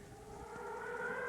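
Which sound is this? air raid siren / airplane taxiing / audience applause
air raid siren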